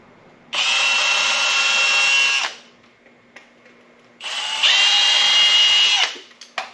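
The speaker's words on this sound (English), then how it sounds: "so that's why I drilled my holes" A power drill bores holes through reclaimed pallet boards outdoors in two loud, sustained bursts of about two seconds each, separated by a short pause with light handling clicks.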